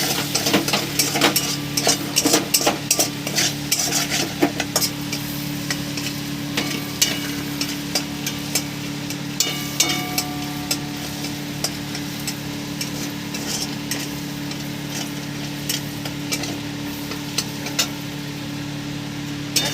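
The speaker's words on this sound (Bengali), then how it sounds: "আমি এখানে দিয়ে দেবো একটু মাখন দিয়ে দেবো কড়ার মধ্যে। এইভাবে আমি মাখনটাকে নাড়িয়ে নেব" A spoon scrapes and clicks irregularly against a kadai as butter melts for peri peri paneer, with a soft, steady sizzle and low hum beneath the close stirring.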